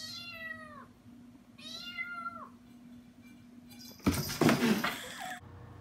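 A cat meows twice in a funny cat clip played back, drawn-out plaintive calls, followed by a brief burst of rustling noise and a faint third meow.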